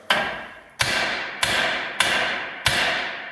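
A hammer strikes the steering knuckle of a Jeep Wrangler to knock loose a tie rod end: five loud, sharp metallic blows spaced roughly evenly, each ringing out briefly before the next.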